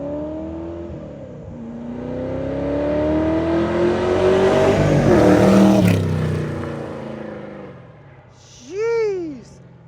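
A Shelby Cobra replica car does a flyby, its engine swelling from a distant rising whine to a loud roaring pass and fading away, followed by a brief high whistling or bird-like chirp near the end.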